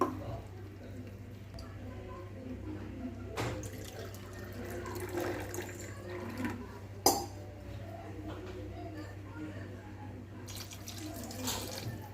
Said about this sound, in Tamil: இந்த டைமில் நம்ம வந்து அரிசிக்கு தேவையான தண்ணி வந்து ஆட் பண்ணிக்கலாம்